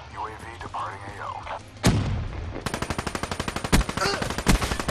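Submachine gun fire in the Call of Duty Black Ops 3 multiplayer video game: a loud impact, then a fast, sustained burst of rapid shots with a couple of heavier hits, close and dominant over game sounds.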